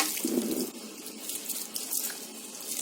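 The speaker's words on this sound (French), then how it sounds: "Et maintenant, je vais rincer" Water from a tap runs steadily while hair is rinsed after a tannin straightening treatment at a hairdresser's, a continuous wash of splashing flow with no voices.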